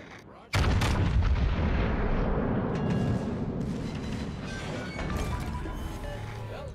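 Warship guns firing in the naval combat game World of Warships: a loud, heavy burst of gunfire erupts after a brief quiet start, then a sustained booming roar that slowly fades.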